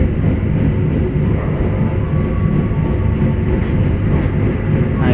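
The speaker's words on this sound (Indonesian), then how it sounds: "Nah, itu dia lokomotifnya" A locomotive-hauled train on an Indonesian railway rumbles past close by, a loud continuous low roar of wheels and cars with faint squeals above, no talking.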